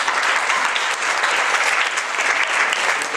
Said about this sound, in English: Please, a round of applause for the two of them,